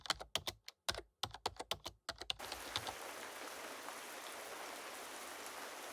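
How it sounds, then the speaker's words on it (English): Morning rain on the West Highland Way. A quick run of sharp tapping clicks gives way to a steady, soft hiss of falling rain that carries on evenly to the end. "It is a rainy one this morning"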